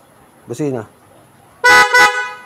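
Two short horn beeps from a Suzuki V-Strom 650 GR motorcycle with a snail horn, close and loud, following a brief voice.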